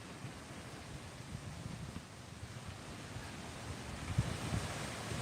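Ocean surf on Clearwater beach, Florida, a steady broad wash of waves mixed with wind buffeting the microphone, continuous and moderately loud with no talk.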